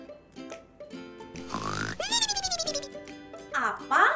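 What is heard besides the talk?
person snoring while sleeping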